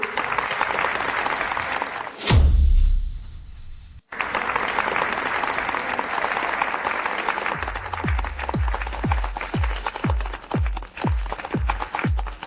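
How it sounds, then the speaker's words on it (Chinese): Audience applause welcoming a project leader at a business event: a dense, steady wash of clapping that dips briefly midway, then resumes with a series of heavy low thumps punctuating it toward the end. "鼓掌欢迎"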